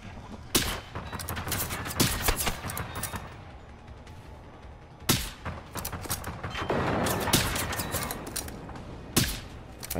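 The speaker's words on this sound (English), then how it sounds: "I fire from afar while Chromehound draws the fire." Gunfire in the video game Generation Zero, with sharp, loud shots in scattered bursts and single cracks. Some volleys are rapid, over a constant background of game noise and no talking.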